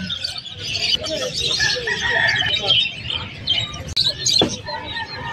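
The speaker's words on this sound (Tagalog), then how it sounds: "dun sa mga manukan, yung mga kakaibang manok, yung malalaking manok" Roosters crow and hens cluck in a busy, crowded poultry farm holding large, unusual chicken breeds, with faint voices mixed into the steady bird noise.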